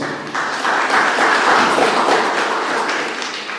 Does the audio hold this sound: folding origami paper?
no